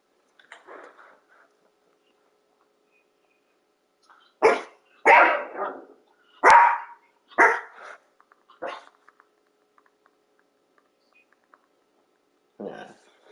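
A dog barks at a printer several times in loud, sharp bursts, clustered together mid-clip, with a quieter bark near the start and another near the end amid silence.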